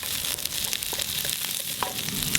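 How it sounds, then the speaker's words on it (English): Minced garlic and lemongrass sizzle and crackle steadily in a hot pan as they are stirred for a shrimp stir fry, a close, bright frying hiss with small pops. "add in the minced garlic, give it a good stir"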